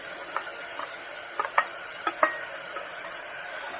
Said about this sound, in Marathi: आता यामध्ये आपण टोमॅटो टाकून घ्यायचे